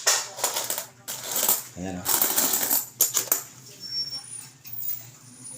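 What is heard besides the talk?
two-peso coins dropping and clinking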